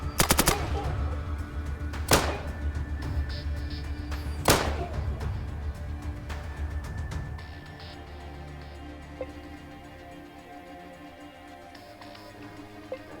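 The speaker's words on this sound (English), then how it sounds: "let's shoot this guy in the eyes." Combat gunfire in the ATOM RPG game: a rapid burst of shots at the start, then two more loud single shots a couple of seconds apart, with a humming game background fading afterward.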